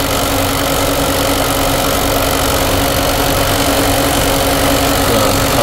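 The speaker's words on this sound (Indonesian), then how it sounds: "Nah, ini kita udah nyalain mesinnya ya." Peugeot 406 engine idling steadily, a loud, constant mechanical hum with a faint knocking texture running without change throughout, with no voices.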